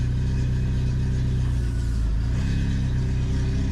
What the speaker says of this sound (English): That could just be the clutch meshing into the stuff wearing in.